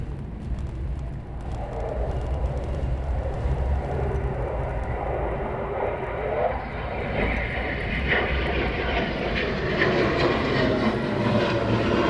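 A Eurofighter Typhoon jet does an overshoot at RAF Coningsby, a deep, heavy engine roar that holds close and loud, then rises in pitch and grows harsher toward the end as the jet passes.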